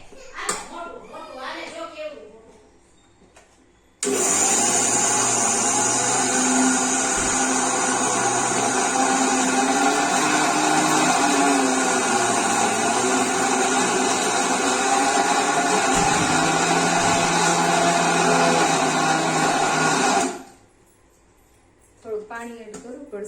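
A mixer grinder grinding dosa batter runs loud and steady for about sixteen seconds with a whirring motor drone, then stops abruptly. Brief talking is heard before and after.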